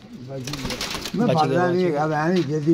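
A pigeon coos close by in a soft, rolling burble, with a brief voice-like sound just before.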